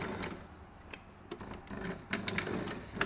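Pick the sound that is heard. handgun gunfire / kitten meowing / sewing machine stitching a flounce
sewing machine stitching a flounce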